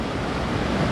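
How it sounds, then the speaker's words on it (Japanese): A mountain stream with high water rushing like a small waterfall in bitter winter cold, a dense constant roar close to the microphone with some wind buffeting. "すでにちょっと滝っぽいですもんね。"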